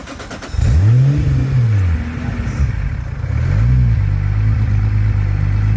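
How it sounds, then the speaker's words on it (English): An 800 hp big-turbo 2JZ in a Lexus SC300 with a BMW DCT revs from behind the car. Two rising-and-falling throttle blips roar loudly out of a rough idle before it settles into a deep, steady burble. "Let's get behind it for the exhaust clip."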